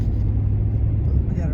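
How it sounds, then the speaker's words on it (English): A really big truck rolls along behind on a street in Jersey Shore, Pennsylvania, a loud, close, steady low road rumble with engine drone under it. "We got a really big truck coming behind me now"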